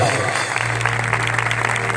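A congregation at an outdoor prayer festival claps hands together in a dense, fairly loud burst, with a low hum running beneath it and no words spoken.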